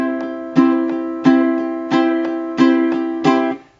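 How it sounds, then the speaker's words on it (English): Ukulele strummed in a swing rhythm, with six accented chords at a steady bouncing pulse and lighter strokes between them, bright and close with no talking. "Well, let's play some swing music on the ukulele."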